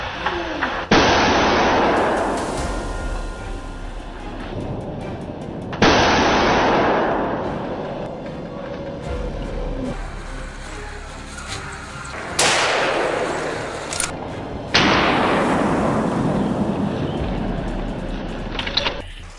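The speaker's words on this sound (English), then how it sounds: "Gunfire erupted from all directions." Gunshots ring out during a wild boar hunt in dense, snowy forest, loud close blasts with long decaying echoes arriving in several separate bursts.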